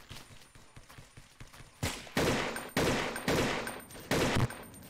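Gunfire in the video game Blockade: several loud, close bursts of rapid shots in quick succession, each ending abruptly, after a quieter opening with faint clicks.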